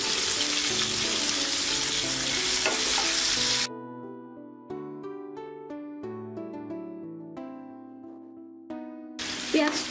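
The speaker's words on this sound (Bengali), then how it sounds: "পেঁয়াজটাকে আমি 1 মিনিট সময় নিয়ে ভেজে নেব" Chopped onions with a torn bay leaf hiss loudly in a hot pan for a few seconds, then music takes over before the sizzle returns at the end.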